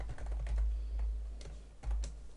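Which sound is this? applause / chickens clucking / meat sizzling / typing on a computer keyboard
typing on a computer keyboard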